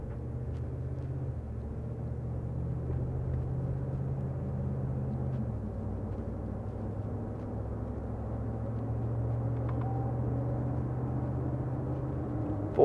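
A low, steady engine rumble from inside a 2014 Ford Raptor pickup truck driving off, with a slight shift in drone midway, no talking over it.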